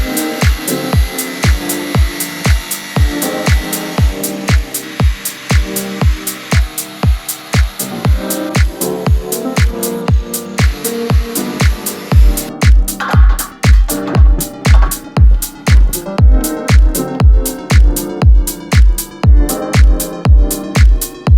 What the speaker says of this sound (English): We'll just take it and use it with the grinder.